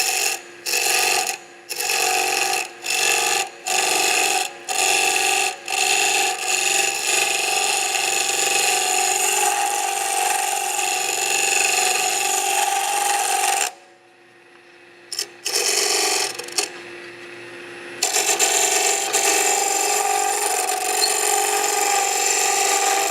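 A wood lathe spins a pine workpiece while a tool cleans up the cuts. A loud, steady mechanical whir runs throughout, broken by short regular gaps early on and a longer quiet pause midway.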